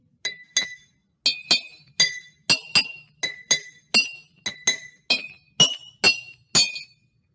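Glasses tapped one after another in quick pairs and singles, bright ringing clinks at differing pitches, alone in a quiet space.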